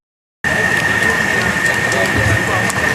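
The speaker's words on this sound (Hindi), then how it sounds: "अपनों जोरदार तालियां हो जाए।" A loud, steady roar of crowd applause at a Mali community statue unveiling for Jyotiba and Savitribai Phule in Naya Wardha village. It starts abruptly and holds a constant, hissing wash of clapping with a faint steady tone underneath.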